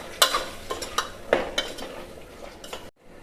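Green peas being stirred into a frying potato curry in a pan, a series of spoon scrapes and clinks against the pot over a soft sizzle, ending abruptly.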